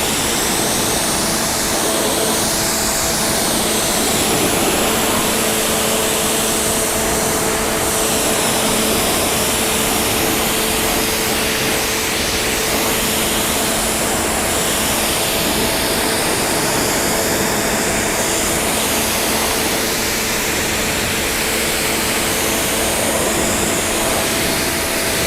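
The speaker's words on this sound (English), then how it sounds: "We'll continue rinsing, so I do need to get all this soap off as the sun is coming out." A water hose or pressure washer hisses continuously as soap is rinsed off a car outdoors, a loud, steady spray rush with no talking.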